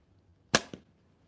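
A slingshot firing light ammo: one sharp snap followed a fraction of a second later by a fainter impact, close by in an otherwise quiet setting.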